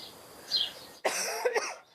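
A woman recovering from Covid coughs twice, hoarse and close, after about a second of quiet room tone with a faint high chirp.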